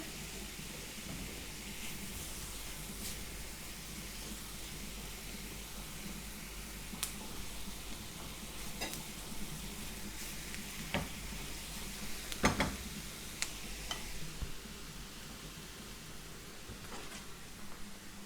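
Onion sizzling in a frying pan, a steady soft crackle and hiss at low volume with occasional sharp pops and clinks, no talking.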